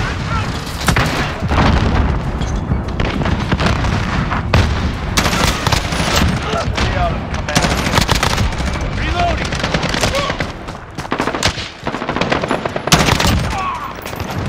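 Dense, loud gunfire from a Call of Duty Modern Warfare team deathmatch match: sustained automatic bursts and booming shots overlap continuously with brief lulls, with game voice callouts mixed in.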